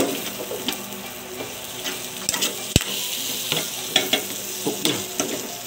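An egg frying with pork sisig in a hot pan, a loud continuous sizzle close up with occasional spatula scrapes and pops, one sharp clack partway through.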